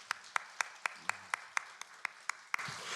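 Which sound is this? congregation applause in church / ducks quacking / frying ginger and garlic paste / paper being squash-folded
congregation applause in church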